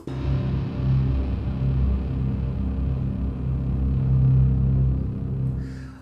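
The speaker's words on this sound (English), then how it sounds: "And this is with the FX attack." A gritty, distorted bass synth with an FX attack drones steadily and heavily, its low growl sustained for several seconds with a slightly swelling texture before cutting off.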